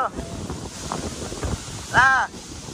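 Strong wind buffets the microphone with a steady roar at a waterfall, broken by short bursts of speech and a brief louder gust near the end.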